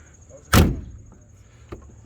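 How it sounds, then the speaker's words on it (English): A 1937 Chevrolet Sport Coupe's heavy door lands with one solid, close thump, followed by a fainter latch click moments later, with no talking over it. "love the doors, how they open and shut. It's like a vault."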